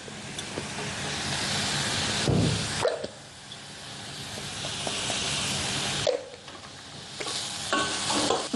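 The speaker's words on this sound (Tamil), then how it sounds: "இந்த தனியா போட்டு வறுக்கும் போதே இது வந்து நல்ல வாசனையாக இருக்கும்." Coriander seeds dry-roast in a pan, making a continuous close hiss and rattling sizzle as they are stirred. The sound drops briefly twice, then resumes at full strength.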